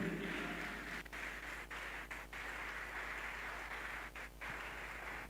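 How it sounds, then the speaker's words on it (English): An audience at a public speech claps, a faint, distant, even patter of many hands with a low steady hum beneath and no voices over it. "Clap before I continue."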